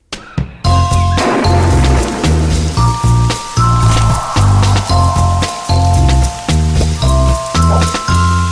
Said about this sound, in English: Dot, choose materials to build an umbrella that will protect her from the rain.